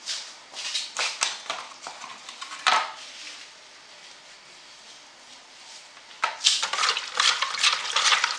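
Bourek filling ingredients being stirred in a bowl, bursts of scraping, clattering strokes near and clear, pausing midway before resuming in quick rhythmic scrapes.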